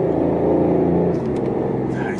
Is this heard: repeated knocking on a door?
no